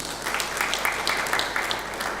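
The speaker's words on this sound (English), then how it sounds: "Please give her another round of applause." An audience claps for the council chair at the African Curriculum Association conference in Nairobi, a dense, even round of applause sustained at moderate loudness from start to finish.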